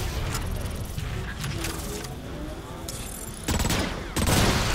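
Gunfire in the video game Transformers: Rise of the Dark Spark rattles as continuous rapid bursts of blaster fire, loud and dense throughout, with heavier impacts near the end.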